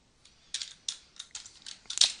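Typing on a computer keyboard, a quick irregular run of close, crisp key clicks over about two seconds.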